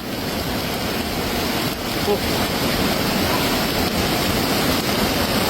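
A flash flood surges down the Iravinji river in a loud, unbroken roar of rushing water, steady and broadband from start to finish.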